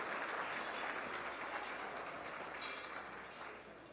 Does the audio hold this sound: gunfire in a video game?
no